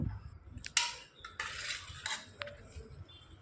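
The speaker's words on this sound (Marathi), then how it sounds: "आता छान मिक्स करून घेऊया" A spoon clinks and scrapes against a pot while green masala matki with turmeric and salt is mixed, giving several close, bright metallic taps in an irregular rhythm with no talking.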